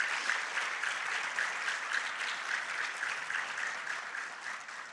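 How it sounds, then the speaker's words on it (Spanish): A church youth service audience claps together in sustained, dense applause that fills the whole moment at a steady level without letting up. "¿Por qué no le das un aplauso a Dios?"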